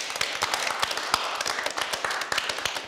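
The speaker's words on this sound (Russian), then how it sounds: "Спасибо, аплодисменты." Audience applause in a lecture hall, dense rapid hand claps, fairly close and steady, holding for about three seconds with no voices over it.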